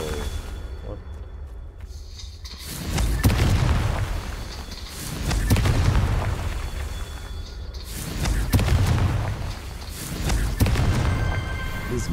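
Booming blasts from the fire-based Confringo spell in Hogwarts Legacy, three heavy low rumbling bursts spaced a couple of seconds apart over a steady game ambience.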